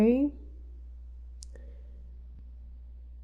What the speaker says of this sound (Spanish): Damos clic en OK.